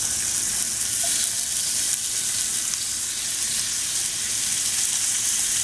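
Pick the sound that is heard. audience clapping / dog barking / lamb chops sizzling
lamb chops sizzling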